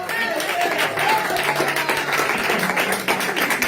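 A church congregation claps together in steady, dense applause that continues without a break, with voices mixed into the crowd noise.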